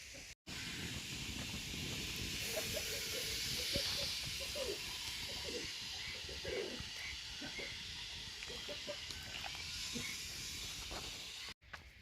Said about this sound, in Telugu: ఈ కుండలో నీళ్లు సలసల మరుగుతున్నాయి కదండి